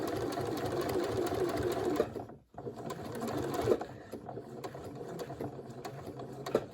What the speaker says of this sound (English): First, it's going to go back straight with a straight stitch.